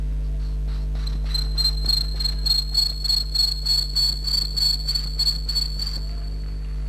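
A voice mimics crickets with a steady run of high, rhythmic chirps, repeated evenly for several seconds over a low background hum.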